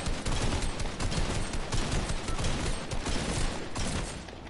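Dense, continuous video-game gunfire fills the whole stretch as a loud, rough barrage of overlapping shots with no clear gaps and no voices.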